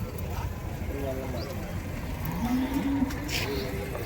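A single drawn-out cow moo rises from a busy background of murmuring voices and crowd noise at the Vaniyambadi cattle market, with a second fainter low call afterward.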